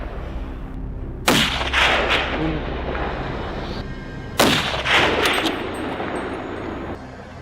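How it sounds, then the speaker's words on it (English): Hunters firing guns at a herd of wild boars in an open patch of land, with two loud sharp shots a few seconds apart, each trailing into a long rumbling echo over steady outdoor background noise. "the herd hit an open patch of land where the hunters opened fire again"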